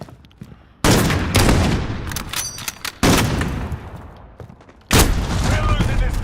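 Gunfire from the Call of Duty Modern Warfare video game comes as three loud, sharp bursts, each trailing off before the next, mixed with voices talking.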